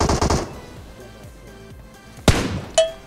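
AKM rifle fire in PUBG Mobile: a short rapid burst of shots at the start, then one sharp loud crack and a later metallic bang over low game ambience.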